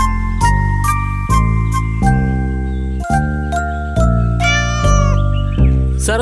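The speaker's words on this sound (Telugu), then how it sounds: "అతను ఒక పిల్లిని తీసుకొచ్చాడు." A cartoon cat meows in a series of bright, tuned calls in a children's story, several distinct loud meows with a tinkling jingle mixed in and no speech.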